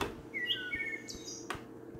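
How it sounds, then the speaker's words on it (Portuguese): Birds chirp at daybreak in a Minecraft-and-Terraria style video game, a few short bright tweets and whistles, fairly quiet, over faint ambient background with soft taps. "Olha os passarinhos cantando."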